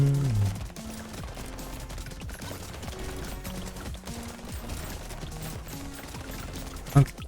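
Dense rapid gunfire from many turrets in the arcade shooter Brotato, a steady rattling barrage layered over game music, with a sharp louder hit near the end.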